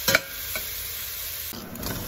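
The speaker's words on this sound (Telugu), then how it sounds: "ఈ అల్లం వెల్లుల్లి పేస్ట్ కూడా చక్కగా దోరగా వేగాలి." Ginger-garlic paste frying in a pan for cauliflower curry, a steady close sizzle with a couple of quick scraping stirs near the start and no voices.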